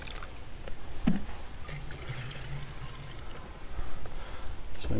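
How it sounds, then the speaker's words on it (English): Vinegar pours into a container to rinse it out while a homemade weed killer is mixed, giving a soft, steady splashing trickle at moderate distance with no talking. "Let me put a little bit of vinegar in here and wash it out some."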